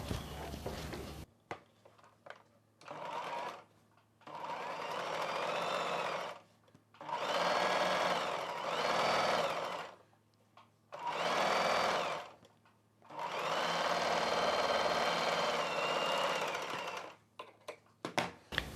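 An electric sewing machine stitches piping along a blouse sleeve in several bursts of steady whirring, each run lasting a few seconds, separated by quiet pauses and small handling clicks, close and loud.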